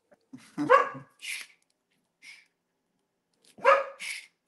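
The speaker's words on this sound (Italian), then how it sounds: "poverino, lasciamolo abbaiare" A neighbours' dog barks nearby in short, sharp bursts, two close pairs separated by a brief pause with a faint single yelp between, loud and alone against silence.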